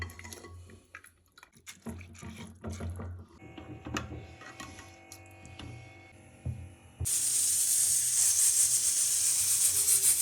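Rice is added to a pot of boiled urad beans, followed by a loud, sustained steam hiss that rises abruptly after some quieter clinks and kitchen movement.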